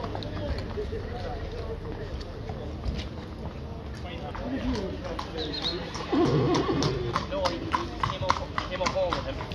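A four-year-old mare at a horse fair in Milltown, County Kerry, can be heard amid outdoor crowd noise, with nearby hoof clip-clops and a brief whinny under steady conversation from people close by.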